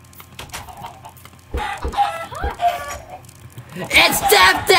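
Chickens clucking in the video game Minecraft, several short bursts mixed with excited talk and game noise, getting louder and denser toward the end.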